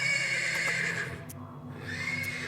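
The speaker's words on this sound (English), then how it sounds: "persistent neighing of a horse can be heard from the stables" A horse neighs persistently from the stables in the video game Black Book, a loud, sustained whinny with a brief pause before it resumes.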